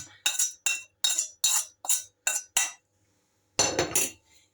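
Bulgur with sautéed onion and tomato paste is stirred in a bowl: about eight quick, evenly spaced scraping strokes close by, then a brief pause and one longer, busier scrape.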